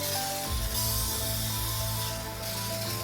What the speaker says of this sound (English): we're going to spray this casserole dish